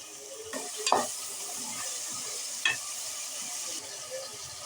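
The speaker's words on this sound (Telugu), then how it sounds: "ఆనియన్స్ బాగా బ్రౌన్ కలర్ వచ్చే వరకు ఫ్రై చేసుకోవాలి." Onions and green chilies fry in a pan with a steady, close hiss and a few sharp clinks of a spoon scraping the pan. No one speaks.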